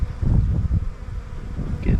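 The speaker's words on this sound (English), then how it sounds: "The bees found it and they are" Honey bees robbing leftover honey from an old frame set outside during a nectar dearth make a close, steady low buzzing that swells and fades, with no talking.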